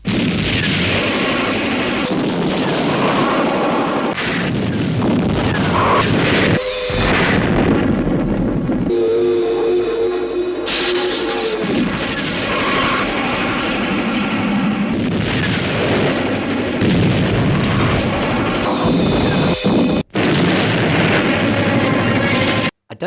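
Loud special-effects explosions for a 1969 film boom and rumble one after another with almost no pause. Deep blasts and crackling debris fill the scene, with brief gaps between some bursts.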